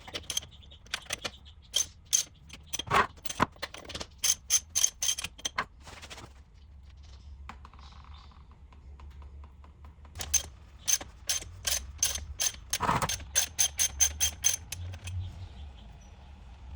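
A ratchet with an 18mm socket works on a transfer case drain plug of a 2015-2019 Cadillac Escalade, giving two quick runs of sharp clicking separated by quieter handling and knocks.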